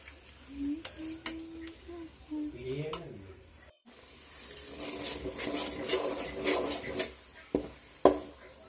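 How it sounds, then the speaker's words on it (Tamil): Pirandai (adamant creeper) chutney being tempered and sautéed in a pan, giving a steady sizzle with scraping stir strokes and a few sharp clanks of the spoon against the pan, close up, with brief sounds of other kitchen activity early on. "தாளிச்சு விட்டாச்சு இதை கொஞ்ச நாள் அப்படியே வதக்கி எடுத்தோம்னா அந்த டேஸ்ட் நல்லா இருக்கும்"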